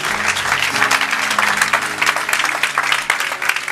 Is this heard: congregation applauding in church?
yes